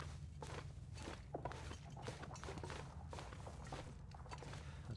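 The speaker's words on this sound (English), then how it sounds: "I hear footsteps, but it's behind me" Footsteps in the video game Endless Night Loper tread steadily under a constant dense ambient rumble, soft and somewhat distant, with no voices.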